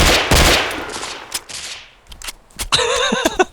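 Gunfire in the video game DayZ: a loud burst of several shots at the start, a few scattered later shots, then a ringing, tonal electronic tail near the end.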